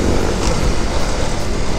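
Motorbikes on a road ride between Nuwakot and Dhading, with continuous close engine noise and road rumble steady throughout, no talking.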